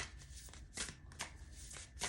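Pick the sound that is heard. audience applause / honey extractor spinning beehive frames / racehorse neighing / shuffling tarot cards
shuffling tarot cards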